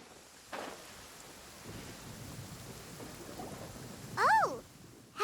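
Stormy weather in the Genshin Impact video game, with a low rumble of thunder and steady rain hiss underneath, a brief swooping tonal game effect near the end, and no speech.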